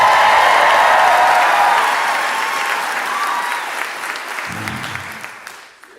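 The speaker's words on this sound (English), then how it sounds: "please make some noise for Josh Johnson" A live comedy crowd in Dallas, Texas greets comedian Josh Johnson with loud, dense applause and cheering that starts at full force and slowly tapers off over several seconds.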